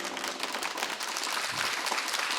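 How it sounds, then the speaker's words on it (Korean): Studio audience applauding a musical actress at a Korean TV broadcast, a dense steady wash of clapping throughout, fairly loud with no talk over it. "여러분 큰 박수 부탁드릴게요."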